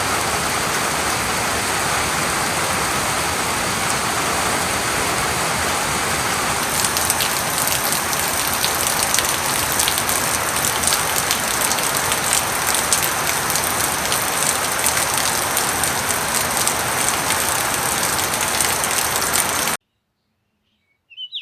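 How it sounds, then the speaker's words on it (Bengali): Steady rain falls in Dokchin village, East Sikkim, a dense even hiss on the hillside that grows a little heavier partway through, with faint birdsong behind it, before cutting off abruptly near the end. "কিছুক্ষণের মধ্যে আবার বৃষ্টি নামলো।"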